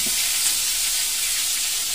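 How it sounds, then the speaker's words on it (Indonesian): Chicken and tempeh coated in spices fry in hot oil, a loud, steady, dense sizzle close up with no pauses. "Ini digoreng ini ya"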